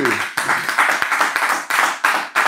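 Congregation clapping during a church prayer service, loud and close, with brisk uneven bursts of hand claps that come in quick irregular surges.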